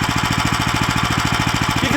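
Close and loud, the Lifan LF390QE Pro engine keeps up a fast, regular thudding beat for two seconds, its firing pulses evenly spaced and unbroken.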